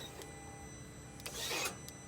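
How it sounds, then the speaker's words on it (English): Exhaust valve controller solenoid on an Audi R8 clicking faintly as the car sits in accessory mode, a few soft mechanical ticks and a brief buzzy actuation over quiet background. "the solenoid actuating"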